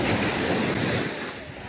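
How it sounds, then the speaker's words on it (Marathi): The rough sea off the shore at Dadar, Mumbai gives a loud, continuous roar of surf and churning waves with wind rumble throughout this short stretch, and no one speaks over it. "बघा समुद्राचा आवाज कसा येतोय तुम्ही पाहू शकता. बघा लाटावर लाटा लाटावर लाटा लाटावर लाटा असे येत आहे बघा."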